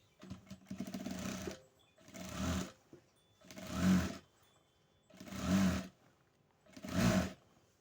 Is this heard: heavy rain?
no